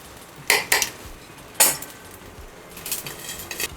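Metal lid set back onto a pan of fasting thalipeeth, giving a few sharp close clanks and clinks of metal on metal, followed by faint softer rattling, with no voices.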